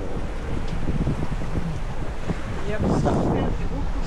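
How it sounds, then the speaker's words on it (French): Strong wind buffets the microphone with a steady low roar, while heavy waves and water wash around a sailboat beneath it at sea between Kea and Poros, Greece. "ce matin, vague importante, vent important entre Kea et EB. Oh, là, ça souffle"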